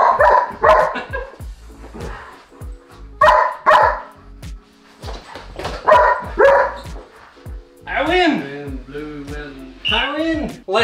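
A pet dog barks repeatedly in bursts during an indoor reaction-light training game, with yips and whimpers mixed in, loud and close, while a person talks between the barks.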